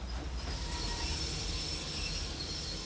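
Railway coaches fitted with Westinghouse compressed-air brakes roll along, a steady loud rumble of wheels on track with high metallic whine and squeal held throughout, no voices.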